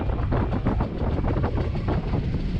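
A Comboios de Portugal train runs along the Douro Valley railway line in Portugal, a steady rumbling roll with rhythmic wheel clatter and some wind buffeting, heard from on board.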